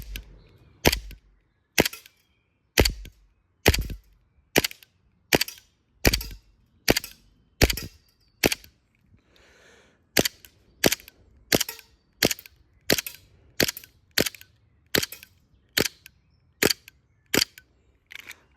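A D-Day 1911 gas blowback airsoft pistol fires shot after shot in a steady, evenly spaced rhythm, each crack sharp and close with a snappy blowback, about two dozen rounds with a short pause midway.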